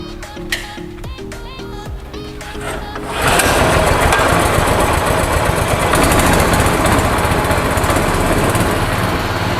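A candlenut cracking machine powered by a 5.5 HP petrol engine starts up after a few quieter moments of clicks and mechanical noise, then runs with a loud, steady, buzzing engine drone.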